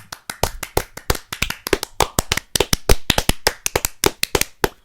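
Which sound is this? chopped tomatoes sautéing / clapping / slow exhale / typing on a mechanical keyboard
clapping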